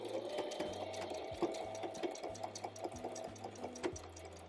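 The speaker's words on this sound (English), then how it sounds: "we're gonna go ahead and sew this so that it's sewn right along the edge there" A sewing machine running a straight stitch along a fabric edge with matching thread, a steady close mechanical whir with rapid rhythmic needle pulses, heard alone without talk.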